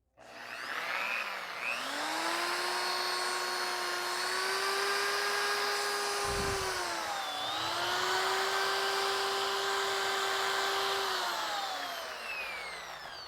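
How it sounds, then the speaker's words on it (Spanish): A small rotary tool sands a stuck fan shaft bushing, a steady high-pitched whine that spins up, holds, briefly dips and recovers, then runs on continuously and close up with no talking. "ahí vamos a empezar a lijar."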